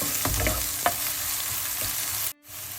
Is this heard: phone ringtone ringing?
no